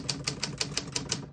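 Crisp typing on a 1956 Olympia SM3 vintage portable typewriter: seven evenly spaced key strikes in a steady rhythm, close and clear with no talking.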